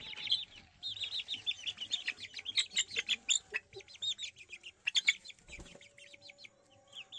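Chickens, including Aseel chicks and a broiler chick, cluck and squawk in quick, repeated bursts, fairly close, with overlapping calls from several birds.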